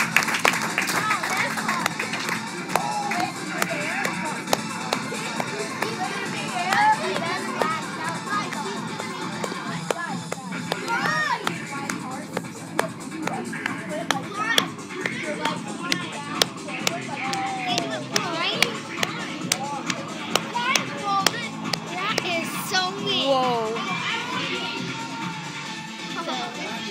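People clap at a karate demonstration, scattered and uneven, mixed with crowd hubbub, children's voices and movement in a lively room, and talking over the top throughout.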